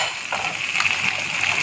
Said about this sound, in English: Now it's time I give in the chicken.